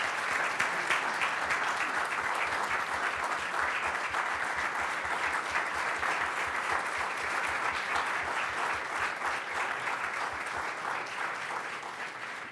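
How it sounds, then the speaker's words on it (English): A school board meeting audience gives a sustained round of applause for students, a thick, even wash of many hands clapping that stays steady and fades slightly at the end. "Audience, if you would please give them another round of applause for the great job they did."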